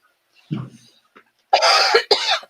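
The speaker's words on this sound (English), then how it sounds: "I mentioned COVID and it makes me cough." A soft throat sound, then two sharp, loud coughs in quick succession, close to the listener.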